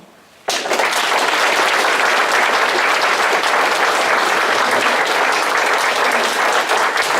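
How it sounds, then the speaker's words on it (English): Audience at a candidates forum bursting into loud, sustained applause after a brief quiet moment, dense clapping that continues for about seven seconds. "Big round of applause for both the candidates here."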